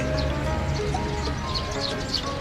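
A horse moves about at Malai Farm, a petting farm in Cha-am, Thailand, where visitors feed the animals; its soft movements sit low under steady, dense outdoor noise, with no clear speech.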